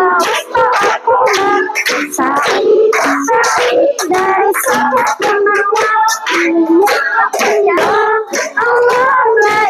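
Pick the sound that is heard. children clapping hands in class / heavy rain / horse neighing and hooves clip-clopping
children clapping hands in class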